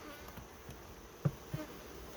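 Honey bees hum softly around a hive entrance in Guyana as a faint continuous drone, with two brief soft knocks near the end.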